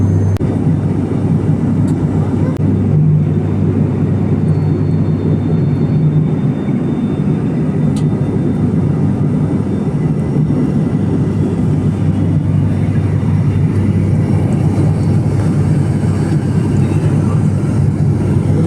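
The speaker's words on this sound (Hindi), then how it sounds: "अब फ्लाइट लैंड होने वाली है" Steady airplane cabin drone during a flight's approach to landing in the morning, a continuous loud low engine and air roar with a faint high tone, holding constant throughout.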